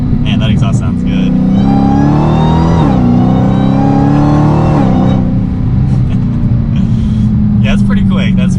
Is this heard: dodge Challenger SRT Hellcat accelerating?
yes